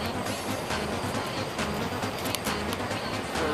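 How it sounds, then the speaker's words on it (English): A roller coaster train at Six Flags over Georgia climbs the lift hill with a steady mechanical rumble and rattling clatter, continuous and moderately loud, with no talking. "I think you can hear a train going up the lift hill."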